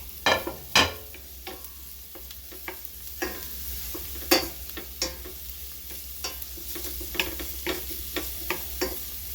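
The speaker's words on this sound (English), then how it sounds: "So what I'm gonna do now is put that garlic in there." Garlic sizzles in a hot pan for beef patties, with a steady frying hiss and repeated sharp scrapes and clinks of a utensil stirring at an uneven pace, close and clear, with no voices.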